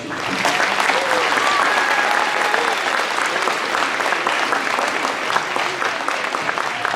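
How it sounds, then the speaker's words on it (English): Audience applause at a 2023 Mesalands CC commencement ceremony: a large crowd claps loudly and steadily for the full seven seconds, a dense, even wash of sound. "Would you please give them a round of applause?"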